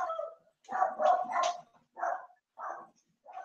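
A dog barks at someone at the front door, giving a short cluster of quick, close barks followed by three separate single barks, loud and clear with no talking over them.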